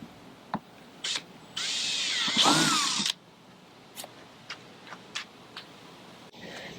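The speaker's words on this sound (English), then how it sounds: "I'm just going to go ahead and drill a little pilot hole first." A power drill bores a small pilot hole, a single sustained whine lasting about a second and a half with a rising pitch as the bit bites, surrounded by brief clicks and taps of handling.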